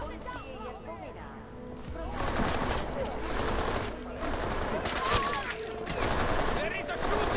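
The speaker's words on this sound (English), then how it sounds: "There is a shooting! Where did that come from? Shots fired!" Gunfire in Deus Ex: Mankind Divided comes as repeated bursts of shots, dense and loud over most of the stretch, tangled with crashes, thuds and shouting voices.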